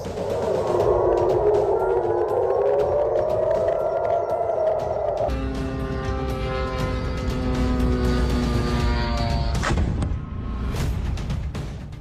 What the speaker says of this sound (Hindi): जॉर्डन में सायरन अलर्ट पर यूएस एयरबेस।